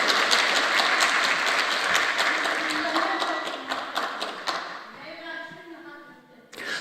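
A church congregation at a Friday night prayer service claps in praise, a thick burst of applause with scattered sharp claps that thins out over several seconds as a voice takes over.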